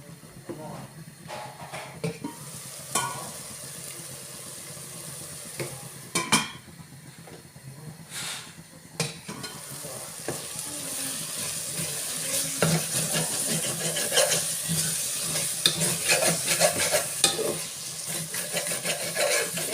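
Masala powder and thick curd are stirred in a dry pan, spoon scraping and clinking against the metal over a light sizzle that grows steadier toward the end, while a voice talks intermittently.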